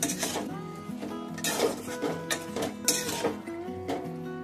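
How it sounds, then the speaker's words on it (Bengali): Clattering metal kitchen sounds as a lid is set on a cooking pot of kundri (ivy gourd) and potato curry, several close clanks and scrapes over about four seconds with background music. "আমি এবারে এটাকে ঢাকা দিয়ে দিচ্ছি।"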